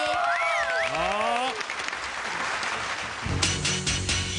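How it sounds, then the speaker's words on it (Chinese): A studio audience at a Chinese-language TV variety show breaks into steady, dense applause lasting several seconds, with voices and cheers rising over it at the start. "掌声欢迎"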